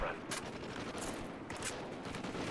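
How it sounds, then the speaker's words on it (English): Gunfire in the video game Call of Duty Ghosts, several sharp shots cracking out at scattered moments over a steady busy game background, moderately loud. "I don't know where I'm being shot from. Someone up here shooting me."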